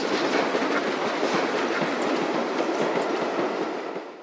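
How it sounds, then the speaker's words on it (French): A passing express train from Paris to Mulhouse, hauled by a 230 steam locomotive with an all-metal rake of coaches, gives a steady loud rolling roar with rhythmic clickety-clack of wheels, continuous throughout and fading slightly at the end. "Croisement de l'express 45 Paris-Mulhouse, avec sa 230 en tête d'une rame entièrement métallique."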